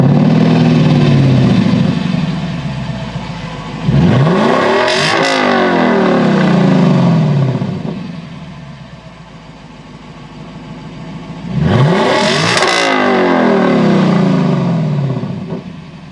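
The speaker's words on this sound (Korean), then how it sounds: "그래서 이렇게 정차 시에 엔진 소리를 들으면은" Lexus LC 500 convertible with a naturally aspirated 5.0-litre V8 revved while standing still: two sharp throttle blips rise and fall between steady idle, loud and close with exhaust burble, no talk.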